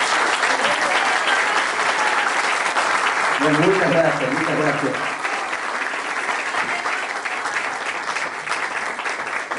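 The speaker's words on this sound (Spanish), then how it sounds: "Un aplauso." An audience at a candidate-list presentation breaks into sustained, dense applause that swells and then eases off, while someone speaks over it, heard clearly above the crowd.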